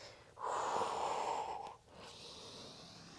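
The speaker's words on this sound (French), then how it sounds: "On continue à vraiment suivre notre respiration." A long, steady breath is drawn in and pushed out through the nose during a energizing vinyasa yoga flow on a mat, one strong airy exhale followed by a softer breath, close and with no talk.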